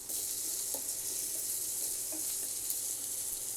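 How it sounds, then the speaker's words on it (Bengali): Soft, steady sizzle of onions frying in oil, with a few light stirring clicks and scrapes now and then. "পেঁয়াজটা হালকা একটু ভেজে নিতে হবে"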